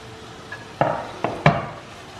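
Cut paneer cubes go into a pan of masala for a creamy paneer curry, making a few distinct clattering knocks against the metal, close and fairly soft, spaced irregularly over a quiet kitchen background.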